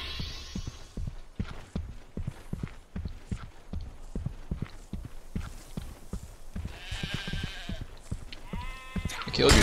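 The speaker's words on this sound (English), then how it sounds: "I killed your sheep." Sheep bleat in Overlord over a steady clip-clop of hooves or footsteps that runs the whole time, with a couple of wavering bleats rising clearly near the end.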